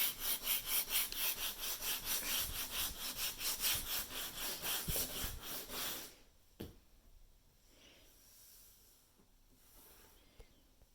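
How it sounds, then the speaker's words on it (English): An electric sander buffs out the wooden surface of an old dresser in steady rhythmic strokes, close and clear, then stops abruptly, leaving faint room noise. "Just go in with that sander and buff it out like I'm doing here."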